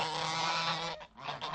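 Several geese honk loudly and close by in a dense, overlapping chorus of harsh calls, breaking off briefly near the end before resuming.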